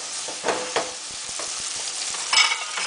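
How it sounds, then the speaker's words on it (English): Beef frying in a pan with onion for an eggplant stew, a close, steady sizzle with stirring scrapes and a louder crackling burst near the end. "I'm going to fry this for about 4 to 5 minutes"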